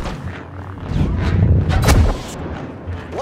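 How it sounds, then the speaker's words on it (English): Rocket barrage explosions in Battlefront 2 roll out as a dense cluster of booming blasts that swell to a peak midway and then fade, loud and continuous with no distinct gaps. "I'm just afraid because this rocket barrage."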